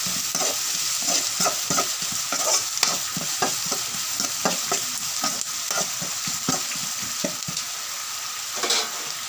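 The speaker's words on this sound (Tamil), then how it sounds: "அரிஞ்சு வச்ச வெங்காயம் போட்டு கிளறி விடணும்." Chopped onions sizzle steadily in a hot pan while a utensil stirs and scrapes through them in quick repeated strokes, close and fairly loud.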